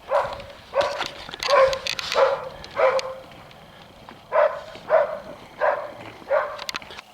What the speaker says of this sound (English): The dogs think they're going to bless a couple of birds by barking at them in the tree